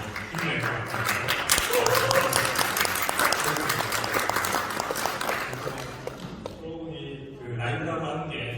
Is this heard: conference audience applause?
yes